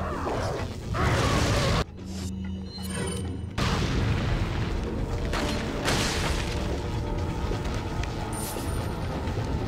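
Booming blasts and mechanical clatter from grenade use in the video game Resident Evil 4, with loud bursts over dense game noise and a short dip into quieter rumble partway through.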